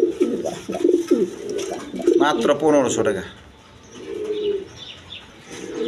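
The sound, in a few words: pigeons cooing, German Beauty and Lotan pigeons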